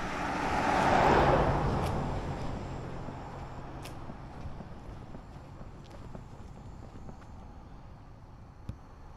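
A car swells and passes close by on a road in Innisfail, Australia, then fades into a quieter background roadway hiss with faint distant traffic and wind.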